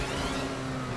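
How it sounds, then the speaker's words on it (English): A supercar engine revving loudly and steadily, a continuous close-up roar with a strong low drone and no pauses, heard alone without voices. "It just sounds like the regular, like a regular supercar."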